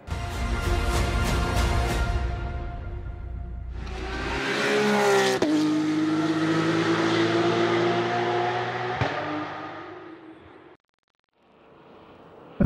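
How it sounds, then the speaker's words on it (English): Porsche Super Cup race car engine roaring at high revs, rising through gears with sharp shifts, then fading as it pulls away, followed by a brief gap and a quieter return. "That was the sound of a Porsche Super Cup."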